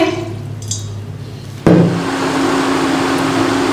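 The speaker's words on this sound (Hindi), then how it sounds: "पानी हमारा उबल रहा है" Water comes to a boil in a pot on the stove, ready for steeping flowers to make herbal dye. A sudden clunk is followed by a steady, close hiss and roar that holds evenly to the end.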